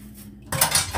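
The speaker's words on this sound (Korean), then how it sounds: "깨끗하게 설거지를 하고 있습니다" Dishes being washed by hand: after a quiet stretch, cutlery and dishware clink and rattle up close under running noise, with no talking.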